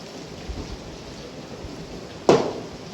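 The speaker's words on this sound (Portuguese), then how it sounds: "Olha, tá branquinho de chuva." Heavy rain falls on a farm in a steady wash, and a sharp crack of thunder breaks in near the end before fading back into the rain.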